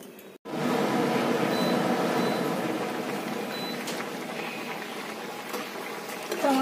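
Vegetable curry with drumstick stalks simmering in a covered pot, giving a steady, moderately loud bubbling hiss that holds evenly throughout after a brief silent break at the start.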